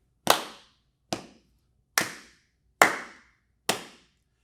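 Five sharp hand claps ring out one by one at an even, unhurried pace in a half-note rhythm, each crisp and close with a short decay into silence, with no voices.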